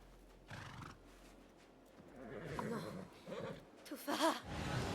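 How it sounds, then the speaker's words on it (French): A horse in the Assassin's Creed Mirage video game neighs with a bright, wavering whinny near the end, preceded by hoof clip-clops and rustling, with a voice speaking partway through. "Toufa, le cheval de mon père."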